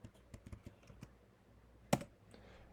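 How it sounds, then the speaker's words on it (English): A computer keyboard typing a command in AutoCAD: a quick run of light, close key clicks followed by one sharper, louder keystroke like a return press, with no talk. "So I'm going to type sweep."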